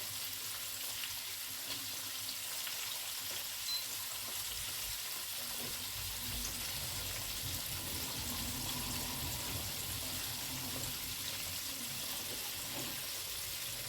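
Tilapia pieces fry in a pan for a gravy stew, giving a soft, continuous sizzle with faint watery bubbling and occasional light knocks, moderately quiet and steady throughout, without talk.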